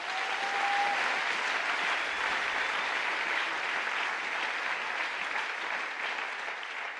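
A church seminar audience applauds together in a sustained, even burst of clapping that fills the room, with a brief faint voice near the start.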